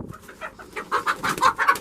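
A hen clucking close by as she is caught near the chicken coop, a run of short, rising squawks and clucks that grow busier toward the end, with no voices.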